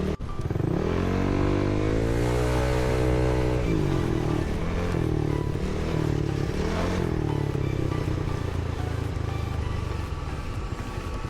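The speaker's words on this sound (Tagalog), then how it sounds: "Traffic talaga dito." Constant loud engine drone from a motorcycle ridden solo through slow, congested road traffic, with rising and falling revs and gear changes, nearby vehicle engines and some clatter throughout.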